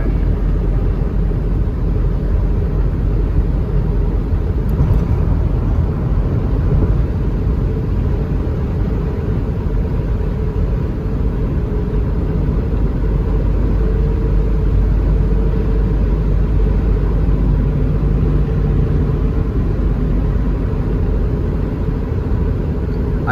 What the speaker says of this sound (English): I'd say for a vehicle that's 26 years of age, it's doing a hell of a good job in terms of its capabilities in driving.